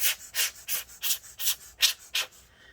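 A hand squeeze air blower puffs dust out of an MSI GS73VR Stealth Pro laptop, making about eight quick, evenly spaced airy bursts close up, with no talking.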